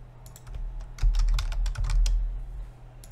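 Rapid typing on a computer keyboard, a close cluster of crisp key clicks in quick bursts with short gaps, no voices.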